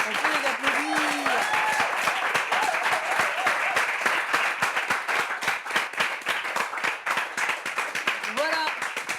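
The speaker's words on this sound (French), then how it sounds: "On peut les applaudir." A studio audience at a Bible quiz game show applauds the contestants with steady, dense clapping that fills the whole stretch, with a few voices speaking over it.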